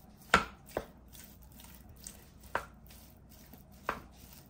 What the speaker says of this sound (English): At this point, we're going to break our potatoes up.